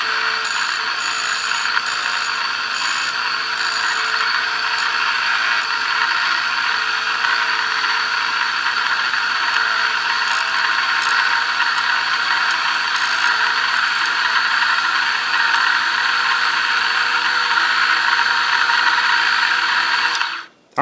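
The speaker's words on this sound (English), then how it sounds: "That's my new bobbin winder." A homemade sewing machine bobbin winder runs with a continuous mechanical whir and a few rattling ticks early on, close and loud, winding thread onto a bobbin before stopping abruptly at the end.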